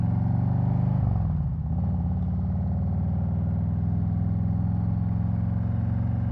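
A 2021 Harley-Davidson Road Glide Special with a Stage 1 Milwaukee-Eight 114 engine rumbles steadily while riding, a deep continuous exhaust drone that dips briefly as the throttle eases, then settles again.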